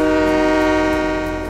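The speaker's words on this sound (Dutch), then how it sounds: "Kijk, dat is tenminste een toeter." Loud, sustained multi-tone train horn from a train simulator game, a steady chord blaring alone for the full moment without any talk.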